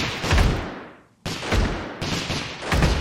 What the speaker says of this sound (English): They're still firing with both of these muskets